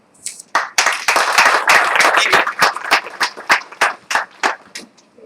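Applause for a team member, with a thick burst of clapping that breaks into sharp, separate claps, loud and close, slowing toward the end.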